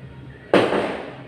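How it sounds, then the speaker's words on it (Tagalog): A single sharp New Year's firework bang goes off outside, a sudden loud burst that fades into a rumbling tail. "manunood na lang sa mga fireworks doon sa bintana"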